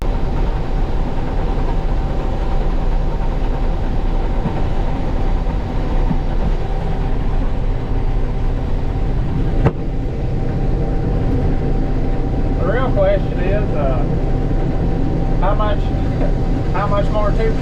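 A combine harvester runs while cutting soybeans, its engine producing a loud, steady low drone with a constant mechanical hum throughout; a brief voice-like warble rises over it near the end.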